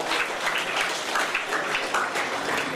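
An audience at the Vidyarthi Ratna award ceremony of Karnataka Sanghatana Vedi gives sustained applause, dense overlapping clapping in a hall with small swells, steady and loud throughout, no talk over it.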